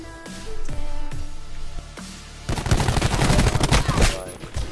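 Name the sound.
gunfire in a video game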